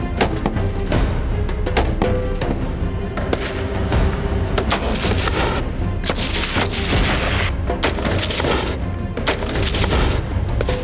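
Dense, continuous gunfire from various firearms at military weapons training, with rapid overlapping shots and heavy booms forming a loud, sustained barrage without pause.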